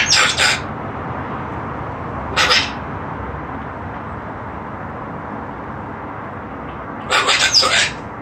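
Cockatoo squawking and screaming in short shrill bursts, one near the start, one in the middle and a longer burst near the end, loud and close over a steady background hum.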